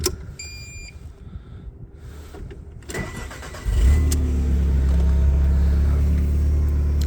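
A Linde H35T gas forklift engine cranks briefly after a few clicks, then catches and settles into a steady, loud, low idle close by.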